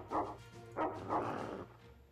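Dog barks in the video game XCOM, three short barks spaced apart at moderate volume, with a low background rumble and no talking.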